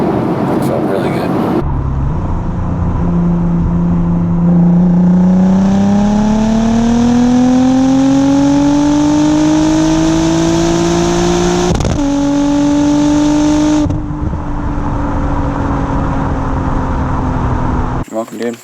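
A 2001 Audi B5 S4 Avant, stage 3 tuned with water methanol injection, accelerates hard with a loud engine note that climbs steadily in pitch, shifts once around midway, then pulls again before easing off; the sound is close and sustained.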